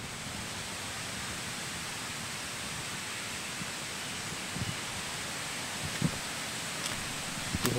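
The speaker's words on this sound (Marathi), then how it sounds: "आणि आवाज बघा असा खलखल खलखल येतोय." Forest stream after days of heavy rain, water babbling and splashing steadily in a continuous broadband rush, close and fairly loud with no pauses, a few faint knocks near the end.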